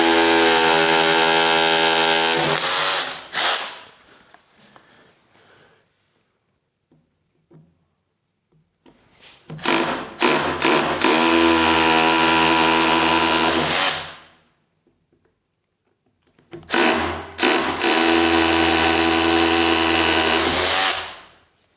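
Power drill driving into material during a garage organization build, with three long loud whirring bursts of several seconds each, separated by pauses with quieter handling clatter.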